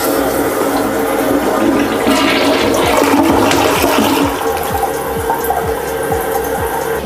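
A toilet flushes loudly and close, with a rushing swirl of water that gurgles down and then settles into the hiss of the tank refilling, with no voices.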